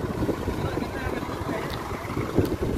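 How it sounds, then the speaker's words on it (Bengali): Strong, cold wind buffets the microphone with a constant low roar and rumble at Magnetic Hill on the Kargil–Leh road in Ladakh, steady throughout the short stretch. "প্রচণ্ড হাওয়া, এত ঠান্ডা লাগছে"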